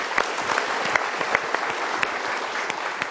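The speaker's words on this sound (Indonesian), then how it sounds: "Kita berikan tepuk tangan dulu." A studio audience claps together at a televised motivational talk show, a bright, continuous burst of applause with individual claps popping out, loud and steady throughout.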